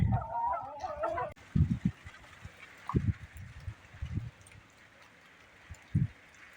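Chickens clucking in short bursts close by during light rain, a few scattered calls over a steady background hiss, with a brief higher call at the start.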